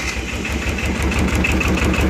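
An Arctic Cat 700 diesel quad with about 10,800 miles on it starts up and settles into a steady, loud, chugging idle with a low, pulsing rhythm, close by and with no talking.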